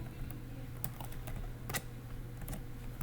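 Typing C code on a computer keyboard, quiet irregular key clicks in quick bursts, close and soft, without voices.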